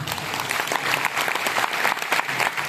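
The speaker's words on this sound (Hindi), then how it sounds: "अभी ताली बजाने का मौका मिला तो भी तालियां कुछ लोग बजा रहे हैं" A seated audience in a hall gives a continuous round of clapping, a busy, even patter of many hands with no voices heard over it. It holds steady throughout.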